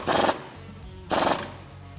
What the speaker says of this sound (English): let's tighten up the bottom nut here with a 15/16 socket